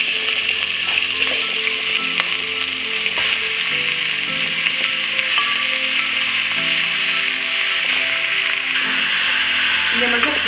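Pork pieces fry in hot oil, a dense steady sizzle and crackle filling the whole stretch, with occasional stirring scrapes and soft clinks close by.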